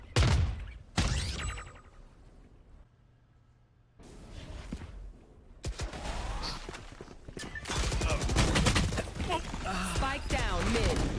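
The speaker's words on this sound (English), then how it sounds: "Great shot coming out from Yang, able to track it from down the road" Gunfire in the tactical shooter Valorant during a tournament match: a sharp shot, then quieter stretches, then increasingly dense bursts of firing and impacts, loud and near, with a commentator talking over parts of it.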